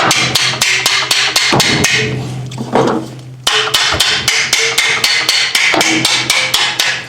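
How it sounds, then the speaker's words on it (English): Repeated sharp hammer blows drive a metal water distribution tube into a Chrysler flathead six engine block, steady and rhythmic in two bursts with a brief pause between, loud and close with ringing impacts. "let me get a bigger hammer"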